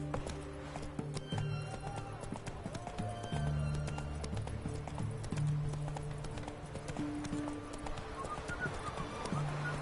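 Steady clip-clop of a horse galloping in The Witcher 3, hooves pounding in a continuous rhythm with occasional whinnies over an ambient game soundscape.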